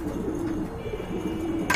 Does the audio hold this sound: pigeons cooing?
yes